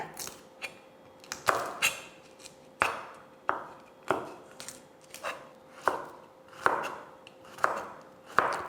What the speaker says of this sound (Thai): กระเทียมเราก็จะแกะเปลือกแล้วก็หั่นค่ะ